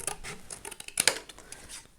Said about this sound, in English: I'm going to cut me a small